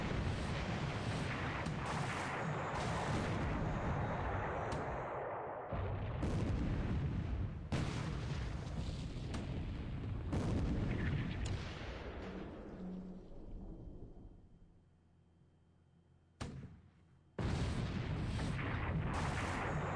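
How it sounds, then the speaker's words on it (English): In the War in the Pacific video game, an 8-inch shell strikes the light cruiser Yura, with loud, sustained booming gunfire and explosions rumbling almost continuously. The barrage thins to near quiet for a couple of seconds, then bursts back in full. "the light cruiser Yura takes an 8-inch shell hit"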